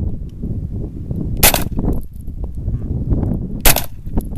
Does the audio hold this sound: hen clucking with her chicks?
no